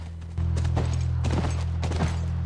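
Horse hooves clip-clopping in The Last of Us, a quick steady run of close hoofbeats over a loud, sustained low engine-like drone that starts abruptly and continues throughout.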